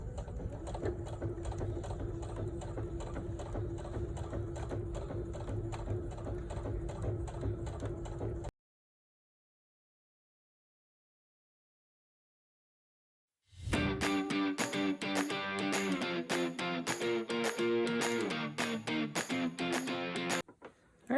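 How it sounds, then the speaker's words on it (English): A sewing machine stitches a quarter-inch seam around the sides of a puff quilt made with four-patch squares, running in a steady mechanical whir, then stopping briefly before starting up again and continuing close and loud. "continue sewing all the way around"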